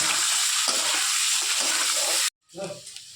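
Potatoes frying with turmeric in a pan, a steady broadband sizzle that holds loud and continuous before cutting out abruptly, then returning more quietly.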